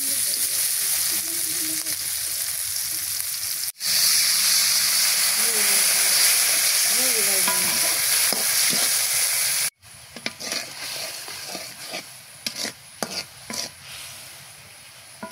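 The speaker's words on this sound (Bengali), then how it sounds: "এই যে আমার মাছ ভাজি হয়ে গেছে।" Tilapia fish frying in hot oil in a pan, a steady loud sizzle with bubbling hiss that breaks off, then resumes more softly with scattered crackles and stirring clatter near the end.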